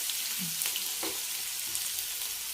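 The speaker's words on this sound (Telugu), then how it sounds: "బాగా యాగనిద్దాం పచ్చిమిరపకాయలు కూడా వేసుకున్నామండి ఎండుమిరపకాయలు" Green chillies, dried red chillies and fenugreek leaves fry in a pan, giving a steady, close hiss and crackle with a few soft utensil knocks and stirring sounds.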